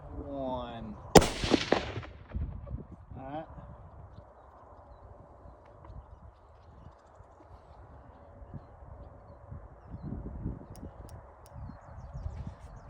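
A single loud, sharp 6.5 Creedmoor rifle shot cracks out early while sighting in at an outdoor range, followed by a fading echo and quieter voices talking afterward.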